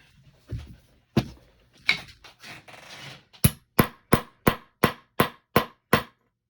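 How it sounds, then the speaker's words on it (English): A ball peen hammer striking a metal fishing reel part held against a wooden block to straighten it, first a few scattered taps, then about eight sharp, evenly spaced blows ringing out loud and close. "with a wooden block and a ball peen hammer"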